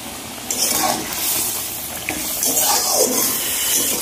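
Water poured into a pot of potatoes cooking in spice masala, a splashing, filling pour that starts abruptly and continues steadily at close range with no talk over it.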